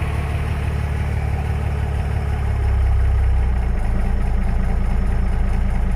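A 12-valve Cummins diesel settles into a steady, loud, close idle after a cold start, with a low rumbling throb that deepens and steadies partway through.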